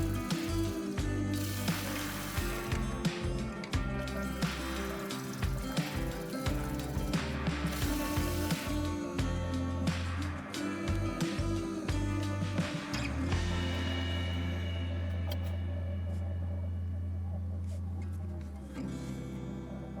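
A Beko washer-dryer runs its spin and drain cycle in fast-forward. The first half is a busy clatter of knocks and whooshes, then it settles into a steadier hum with drawn-out tones.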